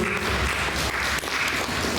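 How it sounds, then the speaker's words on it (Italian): Listeners at an Italian poetry gathering clap for a man named Peppino, a brief, steady burst of many hands applauding at close range. "l'applauso a Peppino"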